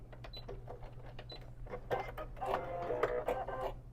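A sewing machine stitches a small tote bag pouch, short clattering bursts of needle strokes starting and stopping as it backstitches, quiet and close with brief pauses between runs.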